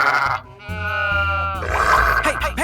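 Cartoon sheep bleating, a loud drawn-out wavering bleat followed by grunty, comic animal noises, close and alone without talk.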